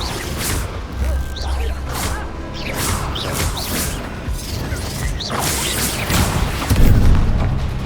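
Fire-blast spell explosions in Hogwarts Legacy, a series of booming bursts with whooshing crackles, repeating loudly across a busy battle mix with a heavy hit near the end.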